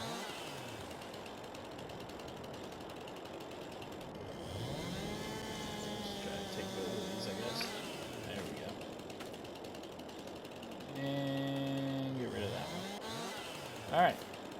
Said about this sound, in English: these chainsaws are a pain in the butt